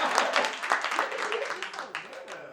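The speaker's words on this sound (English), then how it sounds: "Oh, y'all can clap." Scattered audience clapping at a live comedy talk show, a few seconds of uneven claps that fade out, with some voices mixed in.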